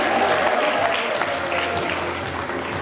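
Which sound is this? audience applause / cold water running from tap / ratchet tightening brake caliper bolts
audience applause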